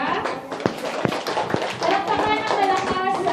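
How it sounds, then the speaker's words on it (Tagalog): An audience at a school debate applauds, with a burst of brisk hand clapping from many people and several sharp claps standing out, loud and close. "Okay, palakpakan ng bawat isa."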